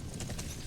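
Horse hooves clip-clopping in the video game Sacred 2, a short run of soft, rapid footfalls heard alone over a steady low rumble of game ambience.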